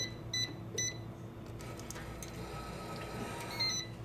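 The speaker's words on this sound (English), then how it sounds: "I love that beep." An electronic keypad on an Omni hotel room safe gives a few short, high beeps, two close together near the start and one more near the end, over a low room hum.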